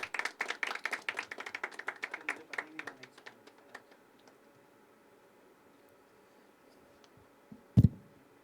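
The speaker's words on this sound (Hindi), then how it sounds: "तालियां उठाइए" A small audience claps at a poetry open mic, with brisk clapping that thins out and fades over about four seconds, then near silence broken by a single dull thump.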